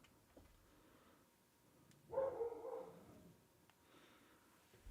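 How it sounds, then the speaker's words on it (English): A dog barks indoors in the background, a single muffled bark or short howl in the middle, faint and distant against a quiet room. "The dog will not stop barking."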